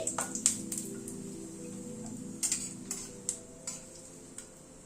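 White cumin seeds and a torn bay leaf tempering in hot oil, giving quiet scattered pops and crackles with some stirring, close and soft over a low background hum.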